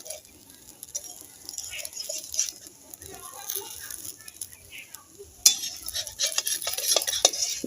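Patishapta pitha, a coconut-filled Bengali rolled pancake, being flipped in a pan, with light scraping and clinking of a utensil against metal over a soft sizzle, busier clatter near the end.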